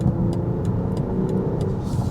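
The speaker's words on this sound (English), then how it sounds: "Just to give you a little bit of an exhaust note right there. The exhaust note from this straight six is actually not bad." A 2025 BMW X5 xDrive40i's straight-six engine drones with a low, steady exhaust note while driving down a road, heard from inside the cabin, with faint ticks over the rumble.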